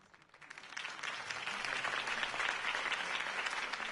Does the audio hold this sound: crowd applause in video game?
yes